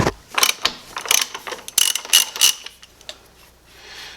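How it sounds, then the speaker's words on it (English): A ratchet wrench with a 30mm socket loosens a grease-coated nut on an Energica Experia electric motorcycle's front end, giving close, loud bursts of rapid clicking in several short strokes with brief pauses between, no talking. "we take a 30mm socket and we're going to remove the nut."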